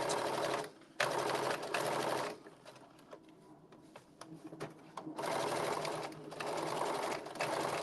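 Stitching through a blazer lining, a sewing machine hums at a fast steady pace with brief pauses and a slower, quieter stretch in the middle before speeding up again.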